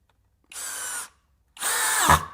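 Two short whirring bursts of a SKIL 12V cordless drill driver, the second slightly longer and bogging down at the end, with a pause between.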